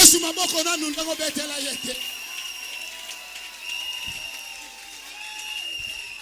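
A church congregation applauds and cheers, a loud burst of clapping and crowd noise that quickly fades away into a quiet room.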